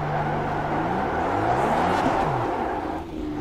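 IndyCar DW12 race car engine in the iRacing game, a loud close whirring drone with rising and falling pitch sweeps as the revs change, continuous for a few seconds with no talk.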